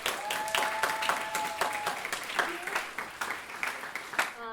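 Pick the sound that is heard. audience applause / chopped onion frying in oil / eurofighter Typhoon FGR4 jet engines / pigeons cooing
audience applause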